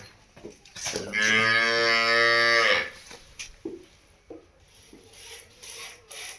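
Jersey cross cow at a cattle sale area in Punjab: one loud, close, drawn-out moo lasting about two seconds, followed by quieter scraping and shuffling noises.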